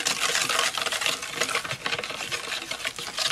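Vanilla extract being stirred into an egg custard pie mixture in a bowl, a steady, close scraping and swishing with faint clinks of utensil against the bowl, continuous throughout.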